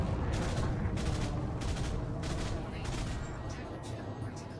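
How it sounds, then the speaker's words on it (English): Ship weapons fire rapidly in a full magazine dump in the game Elite Dangerous, a dense rattling barrage with repeated surging bursts under a continuous roar, loud throughout. "if I boost and then fire these things in a full"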